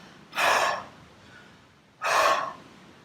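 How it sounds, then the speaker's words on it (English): Two forceful, breathy exhalations pushed out in a deliberate breathing demonstration, spaced well apart, each a short loud gust with quiet room tone between and no talking. "a lot of the times I see people going into breathing where they kind of pushing an out breath."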